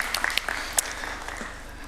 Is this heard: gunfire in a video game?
no